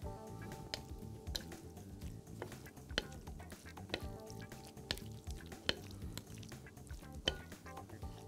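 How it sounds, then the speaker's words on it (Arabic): Chicken and mixed vegetables with green curry paste, pepper and lemongrass sizzle in a hot pan while being stirred, a steady close frying hiss with frequent scraping and clinking strokes, no voices. "وقلب كل ده كده مع بعضه بالشكل دوت"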